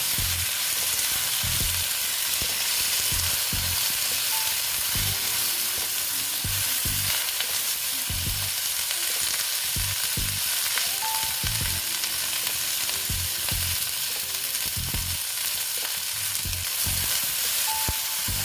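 Flat beans and vegetables for a bottle gourd greens dish with potato and lentil nuggets fry in a pan, giving a loud, continuous sizzle close up. Repeated scraping strokes of stirring run through it, with no voices.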